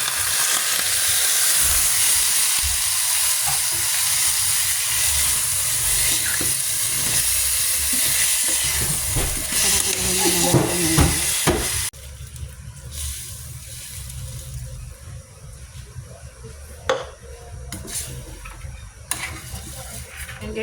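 Pork sautéing in a pan for kare kare, a loud, continuous sizzling hiss that drops abruptly about halfway to a softer crackle with scattered spatters and clicks.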